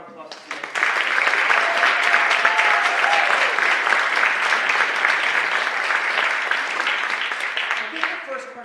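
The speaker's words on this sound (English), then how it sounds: "Can we just give one more round of applause to you?" Audience applause at a member talkback event, starting abruptly and swelling into sustained, lively clapping with some voices and cheers mixed in, then tapering near the end.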